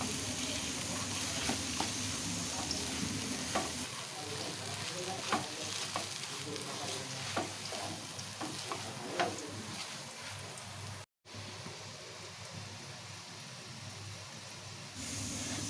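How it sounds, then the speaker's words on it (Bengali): Boiled potato is mixed with soybean chunks in a pan for soya chunk cutlets, producing continuous close stirring, scraping and light sizzling with occasional sharper taps, broken by a brief silent gap. "সিদ্ধ করে রাখা আলুটা দিয়ে ভালো করে মিশিয়ে নেব সয়াবিনের সাথে একসাথে"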